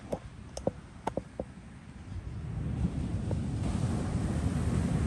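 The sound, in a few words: ocean waves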